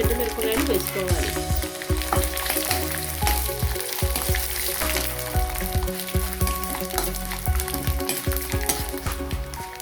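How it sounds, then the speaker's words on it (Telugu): Dried red chillies and tempering spices sizzle and crackle in hot oil, a loud continuous fry with stirring clatter running throughout, no talking. "పోపు వేగిన తర్వాత ఎండుమిరపకాయలు వేసుకోవాలి."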